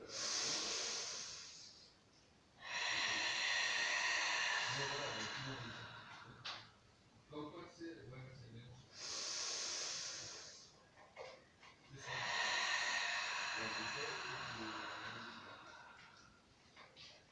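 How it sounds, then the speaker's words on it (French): Deep, loud breaths during a Pilates exercise, with long airy inhales and exhales rising and falling in slow cycles, and an instructor speaking quietly in the gaps between breaths. "Attention, j'inspire."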